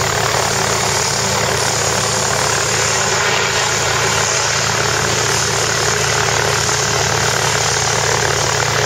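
A Globe Swift propeller plane's engine runs nearby in a continuous, loud drone, steady from start to finish with no voices.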